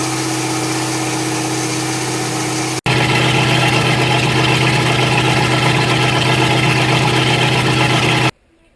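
A MerCruiser marine engine idles as it warms up, a loud, steady drone that cuts out for a moment, then runs on evenly before it stops near the end.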